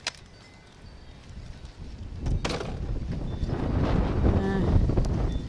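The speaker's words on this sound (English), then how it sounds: "Weather sure is getting windy today." Gusty outdoor wind buffets the microphone, its low rumble swelling steadily louder across several seconds, with a few brief knocks and no clear talk.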